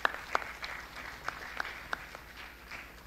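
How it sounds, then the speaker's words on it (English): An audience at a hackathon presentation applauds the judges, with scattered, fairly faint claps heard from a distance in a large room. "So a big round of applause, please."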